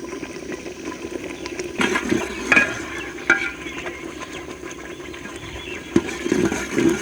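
Thick carrot jam (gajar ka muraba) simmering in a pan while being stirred, a steady low bubbling with occasional scraping spoon strokes and soft clicks, close and fairly quiet.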